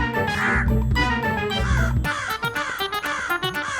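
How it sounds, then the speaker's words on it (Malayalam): A crow caws in a run of harsh, rapid calls close by, loud and insistent, against a brief musical backdrop early on. "തക്കം പാർത്തിരുന്ന ഒരു കാക്ക പിന്നാലെ പറന്നു വന്ന് നെയ്യപ്പം തട്ടിയെടുക്കാൻ ശ്രമിക്കും."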